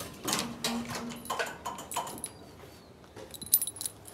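Tractor keys jangle faintly in a series of short metallic clinks and rattles, close by in an otherwise quiet setting.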